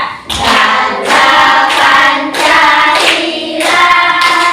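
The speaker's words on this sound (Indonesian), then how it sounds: "Sambil tepuk tangannya ya." Hands clap in steady rhythm, loud and close, while a group sings an Indonesian national song in a primary classroom.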